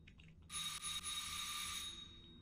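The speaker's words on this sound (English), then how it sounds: "Now all the doorbells are ringing." Several electric doorbells ring together in a steady, bright, sustained jangle that starts abruptly and then fades, with no talk over it.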